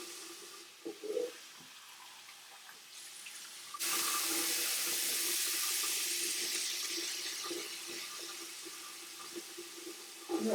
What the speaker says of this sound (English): I'm going to take my washcloth and we're going to rinse.